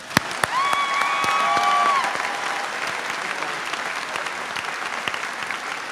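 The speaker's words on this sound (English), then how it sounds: "So give them all a great big hand, and please clap really loud." Applause at a 2018 high school graduation ceremony fills a large hall with steady, sustained clapping from the crowd, with a few faint whistles rising briefly near the start.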